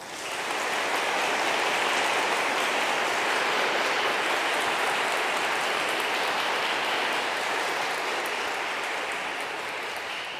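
A church congregation breaks into loud, sustained applause, dense and steady from start to finish before easing slightly at the end, with no voices above it.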